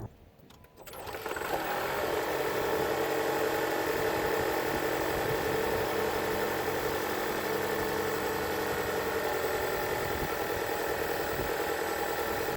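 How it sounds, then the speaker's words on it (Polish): A brief mechanical rustle comes first, then the 1.3 turbo petrol engine of a Jeep Renegade 240 hp plug-in hybrid starts and runs at a steady idle with a smooth hum and faint ticking, close and continuous, with no speech. "Ja wymusiłem pracę silnika spalinowego"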